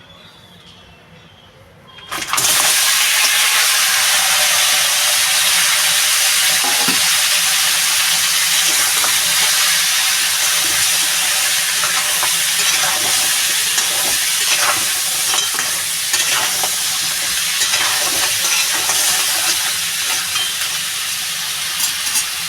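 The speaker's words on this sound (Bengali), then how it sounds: "এদিকে কাঁকড়াটা আমার ভাজা হচ্ছে" Crab seasoned with salt and turmeric frying in hot mustard oil in a pan, a loud, close, hissing sizzle that bursts in suddenly after a quiet start and continues steadily with crackles.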